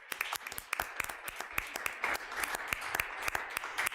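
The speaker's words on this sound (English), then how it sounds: "another round of applause" Applause at a city board of aldermen meeting: a modest group claps steadily in a room for four seconds, individual sharp claps standing out over a continuous patter.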